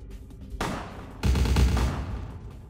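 Bursts of gunfire in Vampire: The Masquerade - Bloodlines, a short volley followed by a louder, heavier rapid burst of shots lasting over a second, close and loud with no talk.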